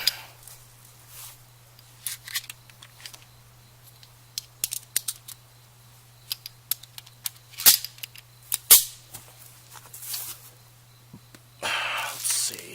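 A Magtech First Defense Bonded 147 grain round is fired into ballistic gelatin. Sharp, clipped cracks sound at scattered points, mixed with clicks and handling noise over a faint steady hum.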